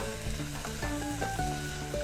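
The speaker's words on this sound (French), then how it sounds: "Les oignons là, fait frire là-dedans." Onions frying in a pan, with a steady sizzle under a continuous background of layered tonal music.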